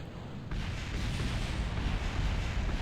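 A rocket lifts off in Kerbal Space Program, a sudden deep roaring rumble kicking in after a brief quiet and holding steady and loud to the end, with no talking.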